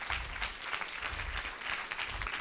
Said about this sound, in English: Oh, she's just applauding.